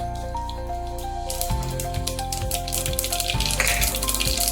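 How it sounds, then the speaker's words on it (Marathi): Mustard seeds crackle and pop in hot oil, with ghee also used, for tempering a vegetable biryani. A dense spatter of close crackling sets in partway through and continues over steady background music. "तेल व्यवस्थित तापलं की त्याच्यात मोहरी टाकून घ्यायची."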